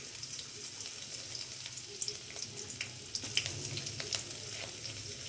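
Chopped onion frying in very hot oil in a heated pan with spices for paneer cutlets, a steady soft sizzle with scattered small crackles and pops throughout.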